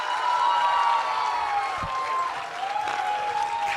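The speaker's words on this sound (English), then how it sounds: "Can we please put our hands together for Masaba Gupta?" Audience applause welcoming Masaba Gupta, a designer and stylist, on stage at a talk event: a dense, sustained round of clapping from a sizable crowd, steady throughout with no speech over it.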